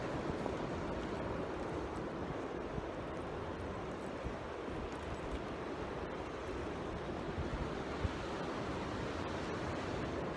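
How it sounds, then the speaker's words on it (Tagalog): Steady, broad roar of ocean surf washing onto a beach in Chiba, Japan, in winter, constant and fairly loud with no distinct breaks, like standing close to the water. "Narinig niyo ba yung ano ng alon? Grabe no, ang tunog ng alon."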